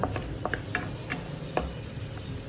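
White onion and garlic sautéing in a pan for menudo, a steady soft sizzle with a few sharp stirring clicks from a utensil against the pan near the start and around the middle.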